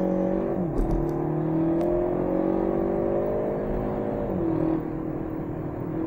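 Inside a Kia ProCeed GT with its 1.6 T-GDI turbo petrol engine, a steady, loud droning engine hum fills the cabin, artificially boosted through the speakers, holding tone and then dropping to a lower pitch near the end as revs fall, with no talking.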